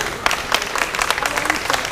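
Audience at an evening school music concert applauding a guest, a dense continuous wash of clapping from a crowd in a hall, steady and fairly loud throughout with faint voices beneath.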